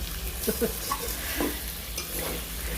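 Food is stirred and fried in a pan, a constant hissing sizzle with scattered scraping and clinking stirs, close and steady, and no voices.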